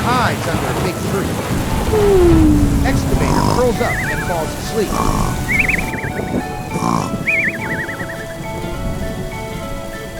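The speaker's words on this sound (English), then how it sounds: "Yeah, the rain is coming." A cartoon rain and thunder sound effect, with steady heavy rain and rumbling thunder, plays under a narrator's voice, along with whistling, whinny-like tones.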